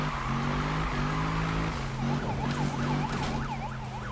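A police car siren wails in the Need for Speed 2015 racing game, its pitch sweeping up and down in a fast, steady cycle over a loud engine drone while the cop chases the player's car.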